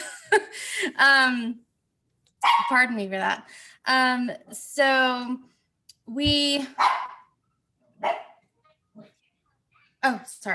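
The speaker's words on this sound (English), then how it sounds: "the dog's barking now" A dog barks indoors at home in several loud bursts of repeated barks, with a person talking in between and over them.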